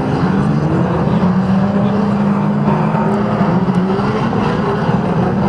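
Unlimited pre-1990 banger race cars roar round an oval track at Mildenhall, a dense, continuous engine drone with overlapping revs from several cars, loud and steady throughout without pauses.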